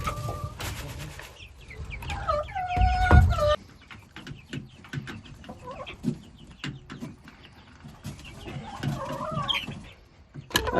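Backyard homestead chickens clucking close by, with repeated chattering calls and squawks that come in bursts, the loudest ones early on. A few rustling movements are mixed in.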